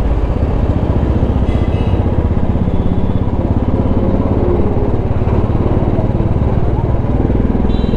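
A motorcycle fitted with a new aftermarket exhaust runs close by, its engine thumping in a fast steady idle with a throaty, rattly exhaust note that stays loud and unbroken throughout.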